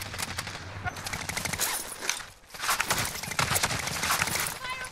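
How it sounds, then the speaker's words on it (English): Gunfire in the battle royale game Call of Duty Warzone: dense, rapid bursts of shots crackle almost continuously, with a brief lull midway before the firing resumes loud and close. "I'm getting sniped on my right."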